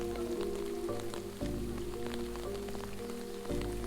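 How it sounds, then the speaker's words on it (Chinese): Rain falling on withered lotus leaves in Suzhou, a soft, dense patter of drops ticking against the leaves, faint and continuous over a low steady tonal hum in the background. "听到雨打在残荷上的声音"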